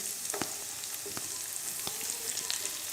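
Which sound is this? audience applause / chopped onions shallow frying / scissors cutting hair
chopped onions shallow frying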